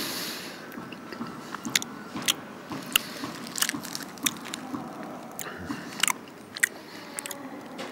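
Loud, deliberate open-mouthed smacking and chewing close to the microphone during a costumed carnival tennis challenge, with repeated wet crunchy bites and smacks in an irregular rhythm over low background noise.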